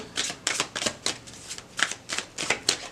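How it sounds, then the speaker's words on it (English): Tarot cards being shuffled in quick rhythmic bursts of riffling and flicking, close and clear, about eight short rustles over a few seconds with no talk. "One more shuffle."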